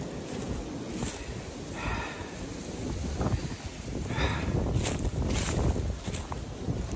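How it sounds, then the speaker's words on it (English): Gusty wind blowing outdoors at a shooting spot and buffeting the microphone in a steady broadband rush that swells in strength partway through. "it is pretty windy"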